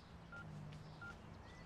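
A phone dialing a butcher shop's number picked from the contacts list, with two short quiet keypad tones over a low background hum.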